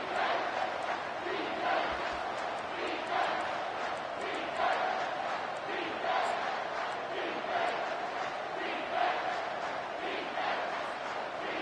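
Stadium crowd at an American football game, a loud sustained roar with rhythmic chanting swells during a defensive first quarter, continuous and distant, filling the whole stretch.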